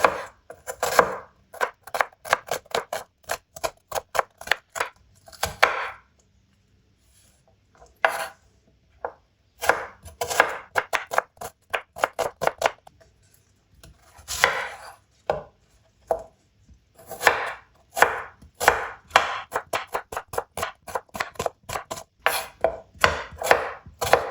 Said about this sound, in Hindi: यहाँ पे 2 बड़े साइज के प्याज लिए, इनकी भी कटिंग कर लेंगे।